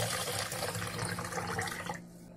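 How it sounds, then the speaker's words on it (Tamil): Water runs from a tap onto a cup of washed idli rice set to soak, a steady close splashing stream that stops abruptly near the end. "தண்ணி போட்டு ஊற வச்சுப்போம்."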